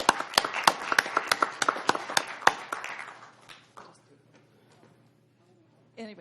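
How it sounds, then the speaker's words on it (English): Sparse handclaps from a few people at a county board of supervisors meeting, a dozen or so sharp, uneven claps for about two and a half seconds before fading into room quiet, with low voices underneath. "we can give her an applause"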